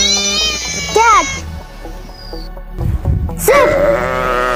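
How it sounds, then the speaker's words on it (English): A sheep bleats in a few wavering, drawn-out cries, loud and close, set among short bursts of other animal calls with no voice over them. "Sheep!"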